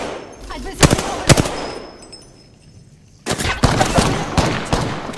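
Apex Legends gunfire, with loud close bursts of automatic shots in two clusters separated by a quieter gap, and faint game sounds and voices between.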